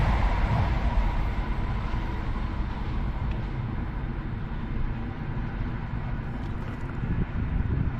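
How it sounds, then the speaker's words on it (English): A steady, loud rumble with rushing wind-like noise as a train passes close by on a busy line in Spain, continuous throughout. "This very busy train line, that's about 4 or 5 trains I've seen in the last 5 minutes."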